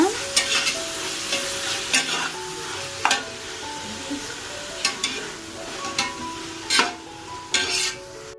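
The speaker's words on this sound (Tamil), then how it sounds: "இது நல்லா வதக்கிக்கோங்க" Ingredients for ghee rice sauté in a pan, a steady sizzle broken by repeated sharp scrapes and clinks of a stirring spoon, close and fairly loud, with no talking.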